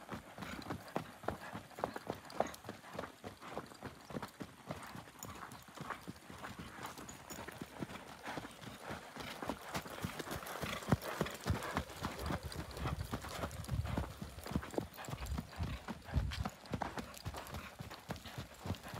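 A Pampa horse walks with steady clip-clopping hooves, close and moderately faint, the even rhythmic hoofbeats continuing throughout.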